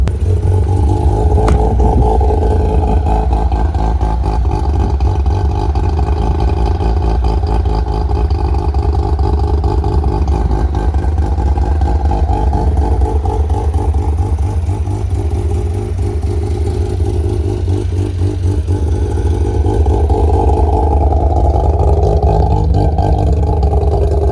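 A Mazda RX-8 hybrid build drives along with its engine droning and revving steadily inside the cabin, a loud continuous low rumble with rattly mechanical texture and no talking.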